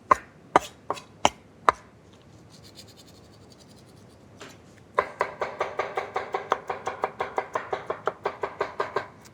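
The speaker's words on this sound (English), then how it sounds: "By coarsely chopping it with your knife, you retain texture." A knife coarsely chops aubergine on a board, a few separate heavy cuts and then a fast, even run of close, crisp chopping strokes.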